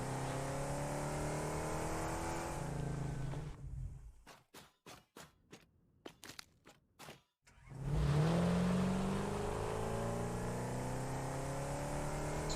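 A vehicle drives in the factory-building game Satisfactory with a steady engine and road drone. It cuts out midway to a few sharp clicks, then returns with a rising tonal whine as it pulls over.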